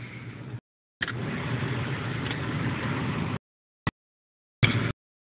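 Ford Mustang GT engine idling, heard from inside the car with the door closed: a steady, muffled low rumble in broken stretches separated by abrupt silent gaps.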